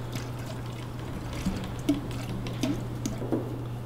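Silkscreen ink is poured in a thin line across the top of a screen, heard as a faint, soft trickle with a few small drips and plops over a steady low hum, with no one speaking.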